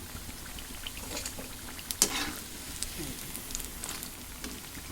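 Ridge gourd bajji fry in hot oil, giving a steady crackling sizzle with scattered pops and one sharper clatter partway through, close and moderately quiet.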